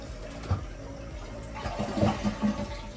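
A WaterSense toilet flushing in a new home's bathroom, a quiet gurgling rush of water with a few soft surges, heard close.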